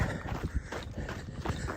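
Horse hooves clip-clop on a trail in the Scratchgravel Mountains, a steady run of close, dull thuds with a few louder strikes, sounding over faint background noise.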